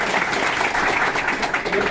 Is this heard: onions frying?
no